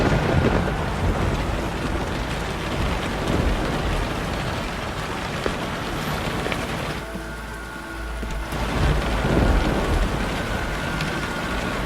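Heavy rain pours down in a dense, continuous hiss with thunder rumbling underneath, the downpour briefly thinning near the middle before returning at full strength.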